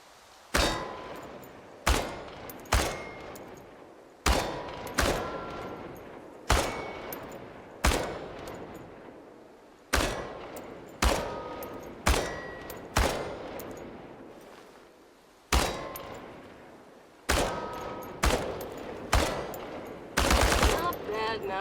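Short bursts of automatic gunfire from the video game Chernobylite strike tin cans on a range, about fifteen loud rattling volleys with ringing metallic clangs and brief pauses between them.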